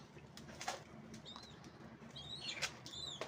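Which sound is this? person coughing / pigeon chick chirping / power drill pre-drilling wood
pigeon chick chirping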